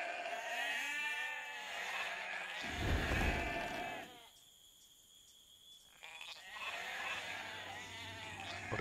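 Several sheep bleat over one another with game-like sound effects in Age of Empires II: Definitive Edition, mixed with voices talking; the bleats return after a quieter pause.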